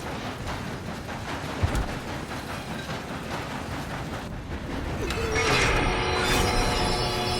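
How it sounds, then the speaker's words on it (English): A moving train in the Red Dead Redemption 2 video game rumbles and rattles steadily with mechanical clatter and a brief metallic knock, growing slightly louder and brighter toward the end, with no voices. "If we don't stop this train soon, the other boys will never catch us."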